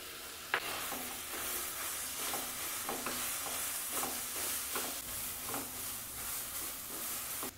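Chhana (fresh cottage cheese) fries in a pan for sarpuria sweets, making a soft continuous sizzle broken by regular scraping strokes of a spatula, close by and with no talk.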